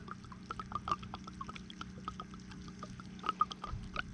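Tiny water softener resin beads pour slowly from a container as a faint, sparse trickle of small ticks and patters, close up and quiet, with no one speaking.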